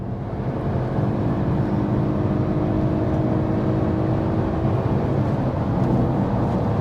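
Steady, loud Porsche Panamera 4 engine roar with a constant drone and rising whine, heard from inside the car as it accelerates hard up to 180 km/h, continuous with no talking.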